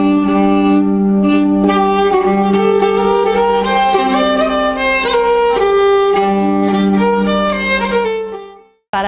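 A chromatically tuned bowed keyed string instrument with sympathetic strings plays a sustained melody over a steady low drone, rich and resonant, heard alone and close, with the notes fading out at the end.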